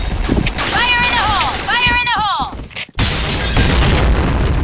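A grenade blast in the online shooter Point Blank lands as a heavy boom with a brief dropout, followed by loud rumbling debris noise, while players talk over the game's tonal sounds.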